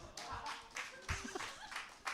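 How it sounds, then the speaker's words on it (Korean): A church youth congregation claps in a series of soft, quick bursts. The sound is faint and distant, partly under voices. "박수해 주세요."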